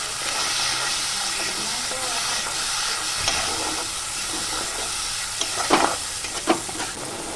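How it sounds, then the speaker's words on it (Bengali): Spice paste with sugar stirred and fried in a pan for a jackfruit curry, a steady close hissing sizzle with occasional scraping strokes of a spatula toward the end. "1 চামচ চিনি দিয়ে আমি এবার ভালো করে মশলাটা কষিয়ে নেব।"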